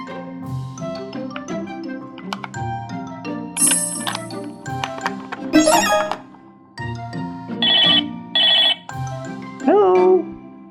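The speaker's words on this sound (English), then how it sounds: "Toy phone." A yellow and white toy phone rings with bright electronic ringing tones and jingling chimes in loud, close bursts over about ten seconds, with pauses between the rings.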